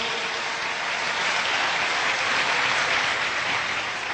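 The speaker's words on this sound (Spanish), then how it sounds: "un fuerte aplauso al Señor" Congregation in a church applauding, a loud, continuous wash of many hands clapping close by with steady intensity and no talk.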